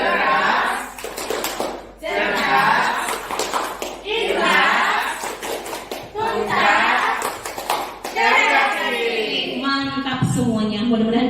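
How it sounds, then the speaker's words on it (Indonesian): A group of teachers performs the 'tepuk guru' clapping chant as an ice-breaker, rhythmic bursts of hand claps alternating with chanted group voices, close and fairly loud, ending in sustained sung vocal tones. "kita mulai. Tepuk guru."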